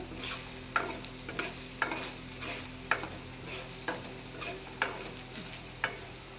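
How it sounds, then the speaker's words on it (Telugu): Paneer frying in a pan, with a low continuous sizzle and regular sharp clicks of a spatula striking the pan about once a second. "ఇట్లా బాగా వేయించాలండి."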